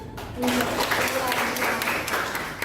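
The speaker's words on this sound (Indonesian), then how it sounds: "Kasih aplaus dulu." A classroom audience bursts into clapping during a lesson, a dense crackle of many hands that starts abruptly and keeps going for about two seconds at moderate, close volume.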